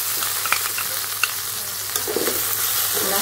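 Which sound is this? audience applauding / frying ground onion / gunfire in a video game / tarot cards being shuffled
frying ground onion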